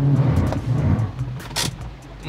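A car with heavily worn clutch and tires struggling on an off-road obstacle: a steady, loud engine drone with rough low rumble, holding revs throughout, with a short hiss near the end.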